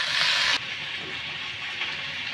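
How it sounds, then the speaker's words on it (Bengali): Okra frying in a pan with salt and turmeric gives a steady, bright sizzling hiss. It drops abruptly to a softer, continuing sizzle shortly after the start, with no voices. "নুন আর হলুদ দিয়ে ভেন্ডিটাকে হালকা ভেজে নেব।"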